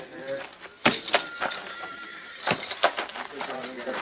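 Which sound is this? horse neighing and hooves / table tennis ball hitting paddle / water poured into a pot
horse neighing and hooves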